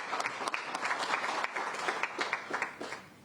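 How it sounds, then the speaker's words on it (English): An audience at a formal event on Nigerian women's representation applauds the minister, a dense burst of many hands clapping, fairly close and steady, rising and falling slightly, with no speech over it. "May we please give another warm round of applause to our Honorable Minister."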